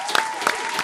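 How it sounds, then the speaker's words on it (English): Brief round of applause with scattered claps from a small group, short and moderately loud, marking a podcast's 100th episode. "Let's get a round of applause real quick."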